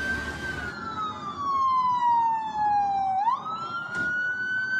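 Ambulance siren on a Bogotá street in Colombia, a wailing tone sweeping slowly down and back up, loud and close over traffic rumble.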